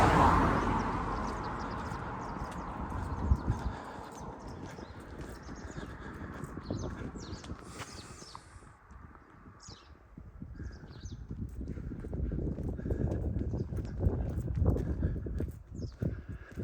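Horses shift and stamp in a field in North East Derbyshire, amid steady ambient noise, with birds chirping and a car passing in the distance.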